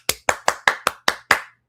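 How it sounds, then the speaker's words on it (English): Seven sharp hand claps in a steady, slightly slow rhythm, close and fairly loud, each one distinct with brief gaps between, no other sound around them. "Let's give you a round of applause."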